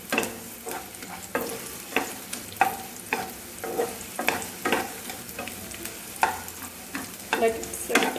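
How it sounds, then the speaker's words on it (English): Sweet potato roasting in a pan over a medium flame, with repeated scraping stir strokes at a steady rhythm over a soft, close sizzle. "We need to roast it on medium flame."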